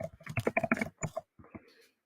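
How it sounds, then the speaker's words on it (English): Someone types on a computer keyboard in a quick burst of close, crisp key clicks, then pauses briefly before a few final taps. "I'm just going to type that here."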